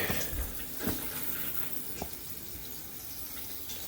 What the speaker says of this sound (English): There's a shower there. It's leaking from the back.